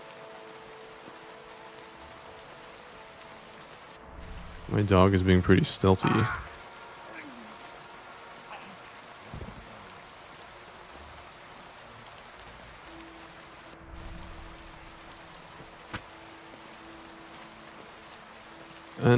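Steady video-game rain falls as a soft, constant hiss throughout, beneath someone talking and brief bursts of louder game sounds.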